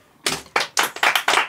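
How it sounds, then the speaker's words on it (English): Short bursts of hand clapping from a studio audience ring out close and loud, about five quick rounds of applause with no voices. "Let's get some applause going!"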